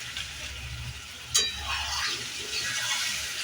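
Deshi chicken curry with garam masala powder is stirred in a hot pan, giving a soft frying sizzle. A brief scrape of the spoon comes midway, then a low, steady simmer.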